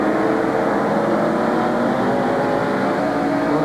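Number 7 Alan Kulwicki Racing NASCAR stock car at the 1993 Bud At The Glen, its engine a loud, steady roar from onboard down the main straightaway.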